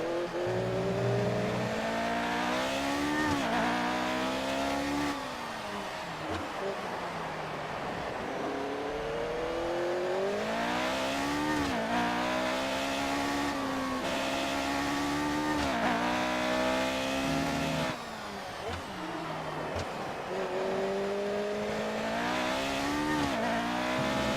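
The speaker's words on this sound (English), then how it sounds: "This car sounds beautiful, it really does." A 1976 McLaren Formula 1 car engine in the video game F1 2018 screams through repeated high revs and gear shifts, steady and loud, with no voices.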